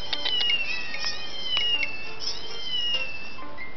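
A Persian cat in a video game meows in a string of short, high, clear mews, repeated several times close up with no talking.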